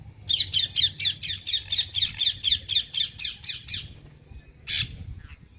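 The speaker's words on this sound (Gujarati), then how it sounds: "એ ચોખા અને ઘઉં ને પંખીડા ખાય" Birds eat rice and wheat on a rooftop parapet on a rainy day, squawking in a fast, steady run of about a dozen harsh calls, then one more squawk after a pause, close and loud over a low hum.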